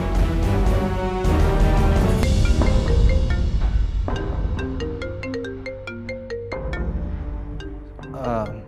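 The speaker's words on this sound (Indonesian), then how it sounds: "ini Chef Lala nelpon" A mobile phone plays a melodic ringtone for an incoming call, loud and close, with a steady run of chiming notes over soft background music.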